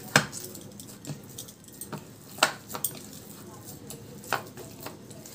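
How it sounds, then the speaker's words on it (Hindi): A spoon stirs a coconut barfi mixture with pink colouring and vanilla essence in a pot. Sparse scraping taps and clinks come every second or so, fairly quiet, with no talk over them. "अब इसको अच्छे से हम लोग मिक्स कर देते हैं।"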